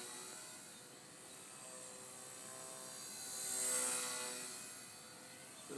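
A small RC helicopter, a stock MCPX, buzzes with a steady whine in flight, swelling louder and nearer midway before fading slightly, with no talking.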